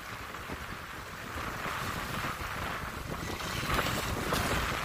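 A fast RC boat skims straight out over ocean waves, its motor buzz merging with steady wind and surf noise that grows slightly louder toward the end, with no voices.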